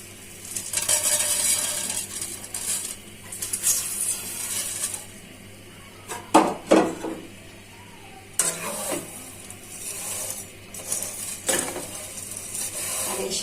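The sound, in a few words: vermicelli (semai) frying on low heat in a pan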